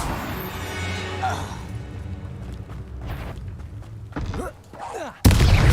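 Confringo, a blasting spell cast in the video game Hogwarts Legacy, ends in a sudden loud burst after a stretch of game ambience with voices talking.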